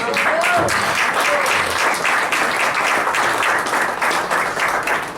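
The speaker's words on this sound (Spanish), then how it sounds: "Dale un aplauso." A church congregation breaks into loud, sustained applause during a Spanish-language sermon, a dense steady wash of clapping that fills the whole stretch, with brief faint voices mixed in near the start.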